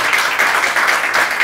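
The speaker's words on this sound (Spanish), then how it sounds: "yo pido un fuerte aplauso para él y su tripulación." A short burst of dense, even applause from an audience honoring a sailor and his crew after a record voyage around the Iberian Peninsula.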